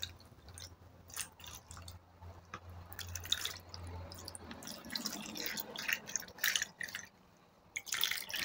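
Salted brine poured over lemons in a jar for quick pickling, giving a close, wet trickling and dripping with small splashes that builds and continues unevenly, with no voices.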